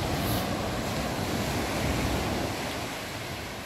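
Waves wash steadily onto the shore at Clear Water Bay beach, forming a continuous broad roar mixed with wind noise, with no voices.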